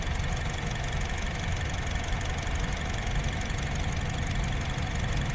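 A 2017 Honda HR-V with a manual gearbox idles steadily up close, its engine giving a loud, even, continuous hum with a regular rhythmic pulse and no voices over it.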